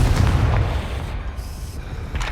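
A Confringo blasting spell explodes in the Hogwarts Legacy video game, a heavy, low boom that rolls out and fades over about two seconds, loud and alone without talk.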